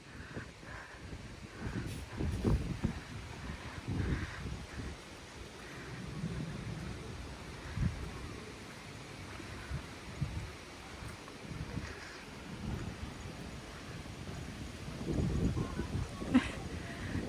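Strong wind roars and buffets the microphone in gusts outdoors, with low rumbling bursts throughout and no clear talk.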